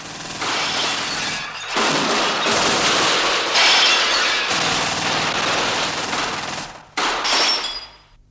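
Gunfire from a shootout in a barracks flag room crackles in dense rapid bursts with brief gaps between volleys, loud, harsh and close, with no talking.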